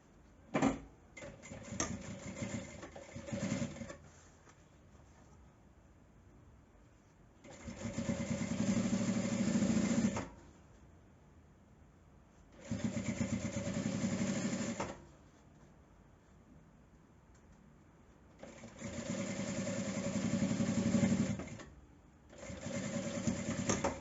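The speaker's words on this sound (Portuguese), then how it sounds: "eu alinho e passo por cima da mesma costura" A sewing machine stitching back over an existing seam while making a small zippered pouch, running in three bursts of several seconds each, separated by quiet pauses with faint handling noise.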